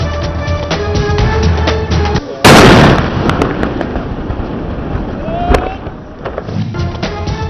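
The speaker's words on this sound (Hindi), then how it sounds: "धमाके की आवाज दूर तक सुनी गई।" A loud, sudden bomb detonation during a controlled operation erupts after a stretch of Urdu news narration, followed by crackling debris and a fading rumble, with a voice speaking before and after.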